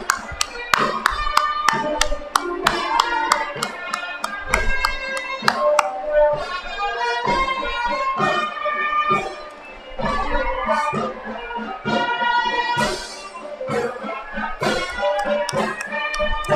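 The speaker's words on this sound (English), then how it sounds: "Please welcome everyone with a huge round of applause." Scattered sharp hand claps ring out from the audience at a university convocation, irregular and fairly close, over music playing in the hall.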